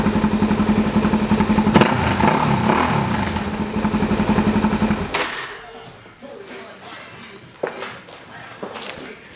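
A 2008 Suzuki DR-Z400SM motorcycle engine, a little choppy, runs with a rough mid-pitched throb for about five seconds and then cuts off, leaving faint clatter and scattered knocks.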